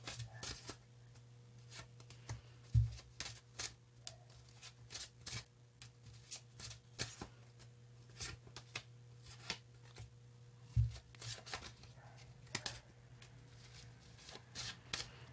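Tarot cards are shuffled by hand in quiet, repeated riffling bursts and soft slides, close and faint, with brief pauses between passes over a low steady hum.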